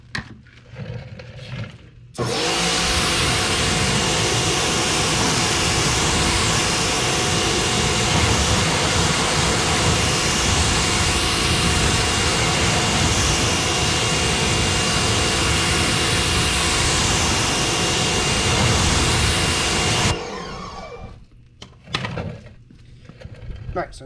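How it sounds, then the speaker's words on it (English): A hose or pressure washer sprays water onto a car tire and wheel in a loud, steady rushing hiss lasting about eighteen seconds, with brief handling noises before and after. "So rinse this off and we'll call it a day."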